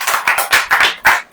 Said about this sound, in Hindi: तालियां नहीं बजाएंगी।